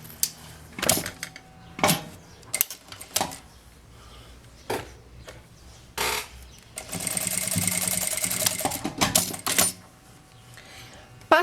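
A sewing machine runs a straight seam on a small rounded fabric coin purse, coming in several short bursts and one longer steady run, with handling noises between.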